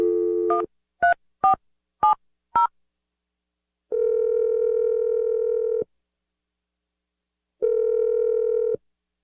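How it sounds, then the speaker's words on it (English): A telephone dials out: a short tone, then four quick keypad beeps in a row, followed by two long ringback tones separated by silence, clean and close. "I'm going to dial the number."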